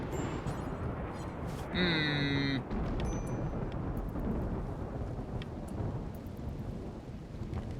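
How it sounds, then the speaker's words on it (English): Rain and a thunderstorm play in the colony-building game Rimworld. A steady patter of rain and low rumbling continue throughout, a brief bright tonal chime cuts in partway, and faint clicks are scattered through. "And there's a mercy rain."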